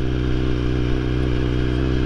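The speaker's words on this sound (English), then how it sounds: "The BMW freaking HP4 freaking Race." BMW HP4 Race superbike engine running steadily and loud, a dense close-up mechanical drone holding constant for about two seconds with no talk.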